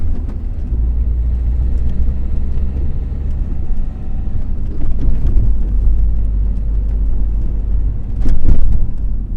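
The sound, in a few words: car driving uphill over speed humps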